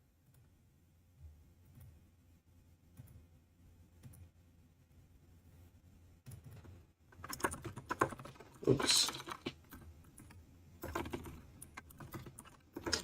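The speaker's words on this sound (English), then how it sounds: "My typing skill is dying" Rapid typing on a computer keyboard, quiet and sparse at first, then growing into dense, loud bursts of clicking keys, with a brief spoken exclamation midway.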